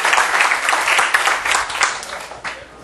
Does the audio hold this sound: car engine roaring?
no